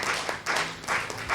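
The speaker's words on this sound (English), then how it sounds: "This applause is not enough." An audience at a keynote on education claps in steady, fairly loud applause that swells and dips in waves, with no voices over it.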